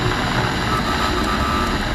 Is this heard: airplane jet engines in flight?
yes